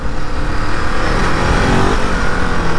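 A Ducati Desert X motorcycle rides along a dirt road with its engine running loud and steady, mixed with rushing wind and tyre rumble on the loose surface.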